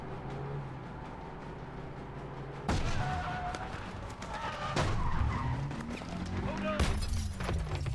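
A car being driven in the video game Call of Duty Advanced Warfare, engine rumble and tyre skids with sudden bursts and crashes, mixed under game dialogue and effects.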